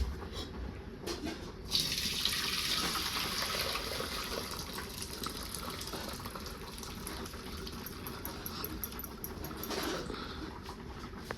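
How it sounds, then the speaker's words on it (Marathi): Cooked dal water poured from a pressure cooker into another vessel, a sudden continuous gushing, splashing stream that runs steadily and close for several seconds. "आता ह्याला मी दुसऱ्या भांड्यात ओतून घेते"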